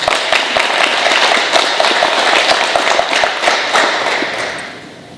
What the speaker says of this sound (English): Let's have a nice round of applause for our senior recipients.